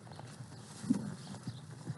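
A ridden horse at a ranch, its hooves clip-clopping in a few soft, evenly spaced steps at moderate distance, with faint background sound and no talk.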